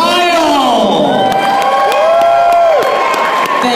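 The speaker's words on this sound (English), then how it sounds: "give a big round of applause for Kyle." A crowd at a masquerade ball cheers, whoops and applauds loudly, with high shouts and voices rising over continuous clapping.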